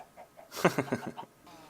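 Chickens in the Minecraft Feed The Beast modpack cluck in a quick burst of several clipped, nasal calls, close and moderately loud, with no talking over them.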